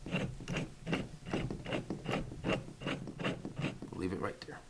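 A threaded hind joint, the larger-diameter piece, is turned by hand into a rear toe adjuster, giving a steady run of close, rhythmic ratcheting clicks about every half second.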